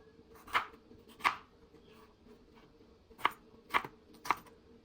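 A knife cuts raw mango into thin, long strips for a spicy mango mix. Five crisp, close chops land at uneven intervals, two early and three bunched near the end, over a quiet background with no talking.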